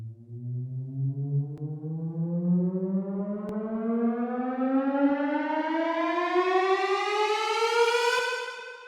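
A pitch uplifter riser built for an electronic music drop, one smooth harmonic tone sweeping steadily upward for about nine seconds, loud and alone before cutting off at the top.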